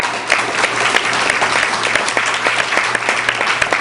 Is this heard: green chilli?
no